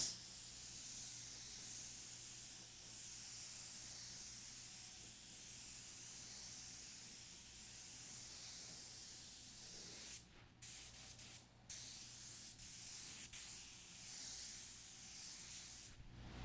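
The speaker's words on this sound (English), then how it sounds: "Now, I'm gonna continue to spray and make sure I get a nice even pass." A spray gun steadily hisses metal flake paint over a silver base coat, a continuous close airy spray with a few brief pauses toward the end.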